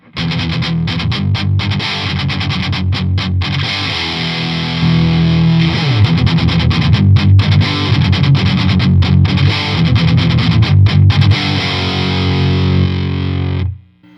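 Heavily distorted electric guitar through a Mesa Boogie Mark III amp with the Deep switch engaged, into Celestion V30 and G12T-75 speakers, plays loud, continuous riffs with sustained chords and chugging palm-muted passages for about fourteen seconds, ending abruptly.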